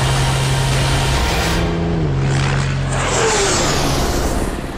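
Volvo Iron Knight racing truck pulling away at high speed, a loud continuous engine roar with a falling pitch as it recedes, heard from close behind under steady wind noise.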